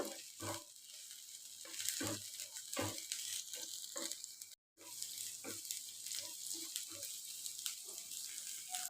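Chopped garlic and a few green chillies fry in a pan for soya chilli, a steady broadband sizzle running throughout with soft clinks and stirring taps, briefly cutting out midway.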